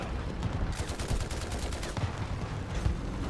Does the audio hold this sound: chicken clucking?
no